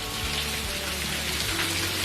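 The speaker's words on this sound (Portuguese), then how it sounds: "É chuva pra todo lado." Rain pouring down steadily on surfaces all around, a dense even hiss of drops that stays loud and close throughout, with no voices.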